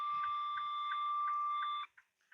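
Inside a big rig truck cab, a faint electronic alarm sounds as a steady high tone pulsed by regular beeps for about two seconds, then cuts off, leaving a couple of brief chirps.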